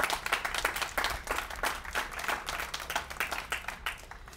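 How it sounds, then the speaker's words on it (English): A crowd at an open house ceremony claps for the contractors, a steady patter of many hands heard from a moderate distance, fairly quiet and continuous throughout. "Nice round of applause for all our contractors."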